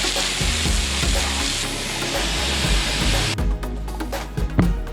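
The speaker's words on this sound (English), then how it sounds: "hosing all the pavers" A garden hose sprays water steadily across outdoor pavers in a close, continuous hiss. The flow cuts off abruptly near the end, leaving quieter outdoor background sounds.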